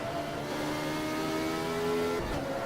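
A 1975 race car engine in the Automobilista racing game revs steadily and loudly with a sustained high drone, then cuts off sharply near the end.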